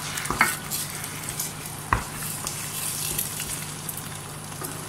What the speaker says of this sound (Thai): ตอนนี้เราเคี่ยวไข่นะคะ